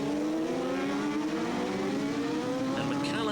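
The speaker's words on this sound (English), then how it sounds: "sliding those tyres into the hairpin" Race cars sliding their tyres into a hairpin bend, engines droning continuously with shifting pitch under steady commentary, with a brief squeal near the end.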